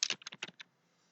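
Quick, light typing on a computer keyboard while entering a rotate command in GeoGebra: a short burst of about eight close, crisp key clicks, then quiet.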